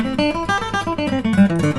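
Guitar picking a quick pentatonic scale run in fourth position, clean single notes stepping evenly one after another, close and clear with no voice.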